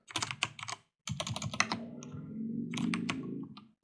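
Rapid bursts of typing on a computer keyboard, close and clear, with irregular key clatter that pauses briefly and then resumes in a long steady run.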